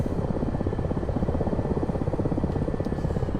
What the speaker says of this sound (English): now that our engines are running at full, we can turn on our own AC generation systems